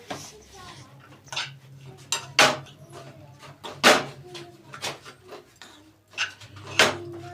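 A spoon clinks and scrapes against a bowl while dry kachori spice filling is mixed with kasuri methi, giving a series of sharp, irregular metallic taps with quieter stirring between them.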